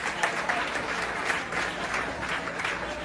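A crowd gives sustained, even applause to honour women, dense clapping with a faint murmur of voices mixed in, steady from start to finish.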